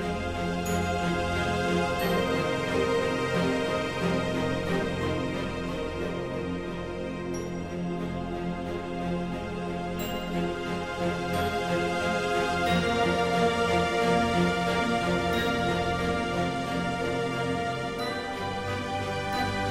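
A cinematic film-music section built with the Nucleus Lite orchestral library plays steadily, layered sustained tones and harmonics forming a full, continuous texture with gentle swells and no voices.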